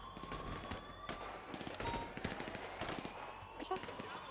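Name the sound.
gunshots in video game GTA V NoPixel roleplay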